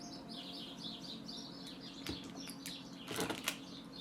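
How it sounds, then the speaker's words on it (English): Birds chirp outdoors, a string of quick high tweets running throughout, with a few sharp flutters and louder rustling bursts near the end, fairly close but light. "The birdies."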